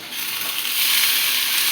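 Horse gram being stirred in a frying pan makes a continuous, fairly loud hiss of frying that swells slightly, with no talking.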